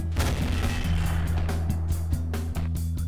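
Heavy gunfire from a 9-ton tank loaded with explosive ammo in Garry's Mod, sharp broadband shots over a steady low engine rumble, several bursts across the stretch.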